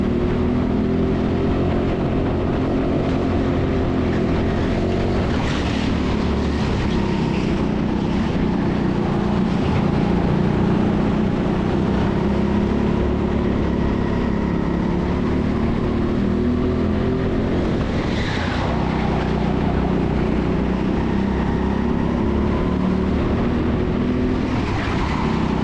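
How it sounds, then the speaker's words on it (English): Go-kart engines race around an indoor track at TeamSport Sheffield, a continuous buzzing drone with rising and falling revs and occasional passing surges from nearby karts, loud and without talk. "The karts that we've got seem to be driving pretty well."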